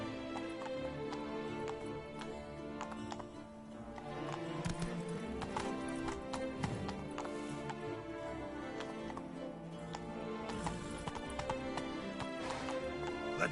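Horse hooves clip-clop at a gallop in The Witcher 3 video game, a steady rhythmic pounding at moderate volume with occasional neighs over a low, busy game ambience.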